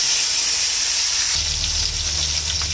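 Aluni dried fish frying in deep hot oil, a loud continuous close-up sizzle that swells and deepens partway through as more frying starts.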